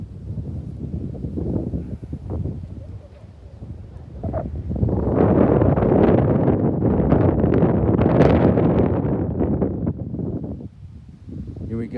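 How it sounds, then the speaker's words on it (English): Wind buffets a microphone outdoors on the South Downs near the English Channel, loud rumbling gusts that swell in the middle and ease off, with faint talk in the quieter stretches. "I think there's a bit of wind now"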